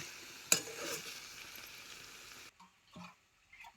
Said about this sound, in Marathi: तेलात कसं चांगलं खालवर झाले बघा.